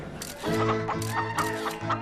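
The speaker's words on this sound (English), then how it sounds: "It's Ginger, a real live tic-tac-toe playing chicken" A live chicken that plays tic-tac-toe at a casino clucks in a quick, repeated, fairly loud string of short calls. No one speaks.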